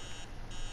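Electronic alarm in the horror game Emily Wants to Play Too, a steady high beeping tone heard briefly at low volume over a humming background.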